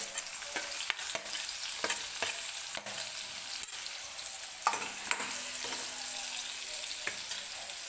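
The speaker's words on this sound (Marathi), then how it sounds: "तर तो कांदा टाकून घेते सुरुवातीला" Finely chopped onion frying in hot oil for a dhaba-style egg curry, a steady dense sizzle with intermittent close stirring scrapes and taps of a spoon against the pan.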